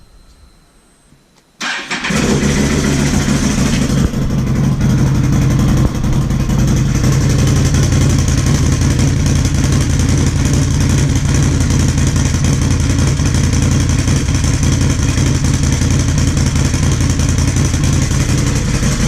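A 2009 Can-Am Outlander 800R ATV engine cranks and fires after a brief quiet moment, then settles into a loud, steady, close-up running rumble that carries on for the rest of the clip with no voices.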